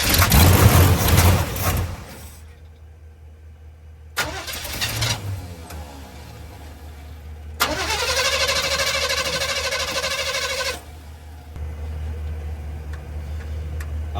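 A 1985 Chevrolet C20 pickup that sat for over ten years, with a dead battery and jump-started from another truck, cranks in several separate bursts with pauses between, then catches and settles into a running engine.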